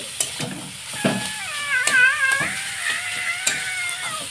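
Chicken pieces sauté with masala in a hot pan, a soft sizzle under intermittent scraping and stirring clicks, with a brief squeaky tonal sweep midway; close and fairly quiet, no talking.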